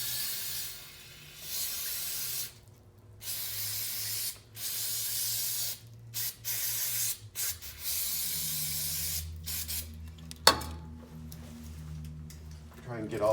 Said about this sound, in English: let's take some carb cleaner and just clean